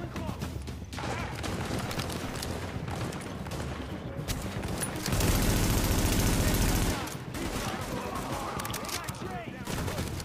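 Enemy gunfire in the video game The Division comes as rapid automatic bursts and scattered shots throughout, swelling to a loud sustained barrage midway, with a player talking over parts of it.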